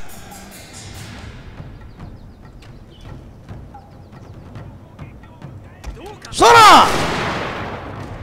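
Joseon matchlock musketeers fire a volley in the video game Total War: Shogun 2, a sharp ragged burst of gunfire near the end after faint distant shots and battle noise, with voiced shouting mixed in.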